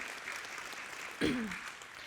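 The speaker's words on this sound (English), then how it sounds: "Yes, clap for God." A church congregation claps together, a soft, steady spread of hands heard from a distance, with a brief voice cutting in partway through.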